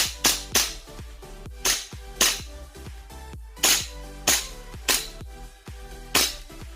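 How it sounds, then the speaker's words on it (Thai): A black Kimber R28 gas airsoft pistol fires in quick succession, about a dozen loud, sharp cracks in an uneven rapid rhythm, close and alone without talk. "ลองยิงรัวดูบ้างนะ"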